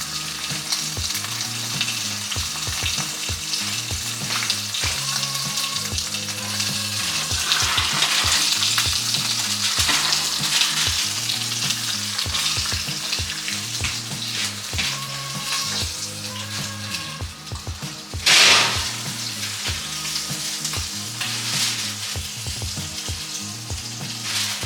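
Butter and chopped garlic sizzle loudly and steadily in a hot pan, a dense continuous hiss with rhythmic stirring or scraping underneath and a brief sharper flare of sizzle near the end.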